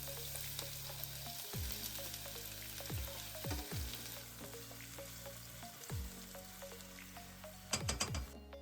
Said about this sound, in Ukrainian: вливаємо олію і викладаємо цибульку нарізану і чесничок. І все піджарюємо до золотистості.